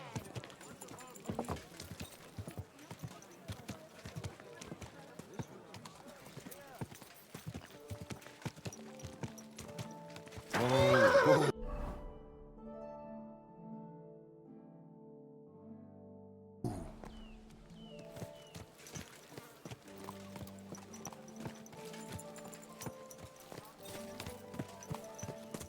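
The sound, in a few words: horse neighing and hooves clip-clopping in video game Kingdom Come: Deliverance II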